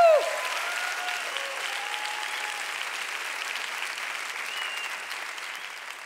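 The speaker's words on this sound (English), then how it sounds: "One round of applause once again for Rita Moreno, Orgullo Latino." Steady applause fills an awards ceremony hall at the Hispanic Heritage Awards, a broad wash of clapping that holds at an even level throughout, with a brief voice heard at the very start.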